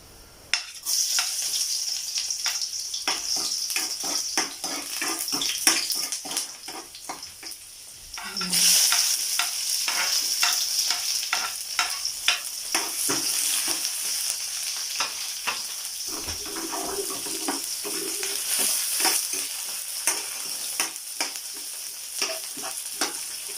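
Garlic sizzles and fries in a hot pan for arroz caldo, a steady crackling hiss that runs throughout, with occasional stirring clinks and a brief louder burst partway in.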